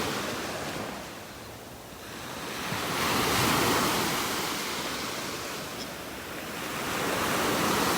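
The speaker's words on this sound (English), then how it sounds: "These waves are going to make it hard to see what the water looks like" Ocean surf breaking on a beach in North Naples, Florida, a continuous broad wash of waves rising and falling in two slow swells, loud and close with wind on the microphone and no talking.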